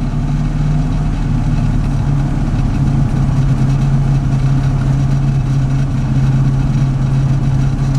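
A 1969 Ford Mustang Boss 429 idles steadily after a cold start, its deep, even exhaust rumble loud and close for the whole stretch with no talk over it.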